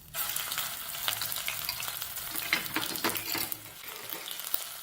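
Ginger garlic paste sizzles in hot cooking oil on a tawa, a dense, steady crackling hiss close up, with no voices.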